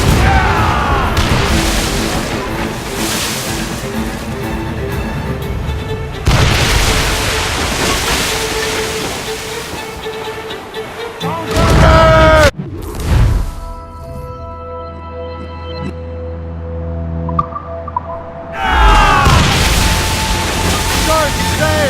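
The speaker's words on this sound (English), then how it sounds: "Shoot to the mine she dropped with the stinger! Fire!" Naval battle in Assassin's Creed Rogue, with loud cannon booms and explosive crashes over rushing sea and wind, broken up by a few quieter gaps with distant rumbles before the barrage returns.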